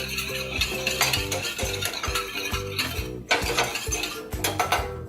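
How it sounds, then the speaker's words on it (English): Warm vegan breakfast cereal ingredients with a pinch of vanilla being whisked in a bowl, with steady rhythmic clinking and scraping strokes that repeat close up, alone without talk. "Whisk it together."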